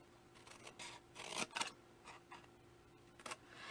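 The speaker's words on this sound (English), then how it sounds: "now I'm going to cut this piece off" Scissors snip through paper while a paper strawberry box is being made, giving a string of soft, close, brief cuts at an irregular pace, a couple of them louder, heard alone with no talking.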